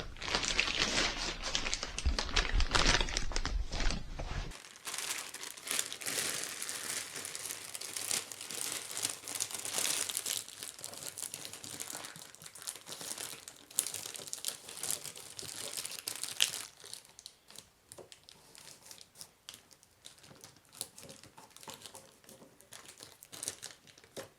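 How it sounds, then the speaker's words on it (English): A plastic bag is crumpled and crinkled by hand near a homemade sandblasting box, loud dense rustling at first, then softer irregular crackles and crinkles that thin out toward the end. "I will use a plastic bag just for demonstration"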